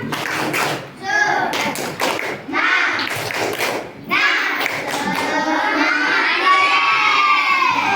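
Primary schoolchildren in a classroom doing the tepuk semangat chant, shouting and clapping in rhythmic bursts with sharp slaps, loud and close, and excited voices continuing at the end.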